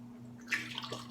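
Water kefir is poured through a small strainer into washed bottles, giving a brief, soft splash and trickle over a steady low hum.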